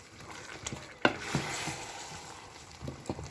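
Okra stew with red palm oil stirred in a pot, a soft sizzle with a few sharp scrapes and clinks of the spoon against the pot, close and alone.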